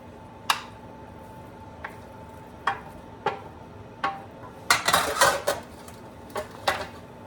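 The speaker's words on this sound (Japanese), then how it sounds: "大きなフライパンに全部肉を入れます。" Ground meat being stir-fried in a large frying pan, with a soft background sizzle and scattered clinks and scrapes of a utensil against the pan, which bunch together into a quick rattle partway through.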